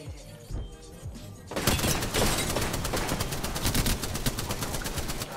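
After a quieter start, rapid bursts of video game gunfire erupt and continue densely, loud and crackling, with sharp repeated shots layered together.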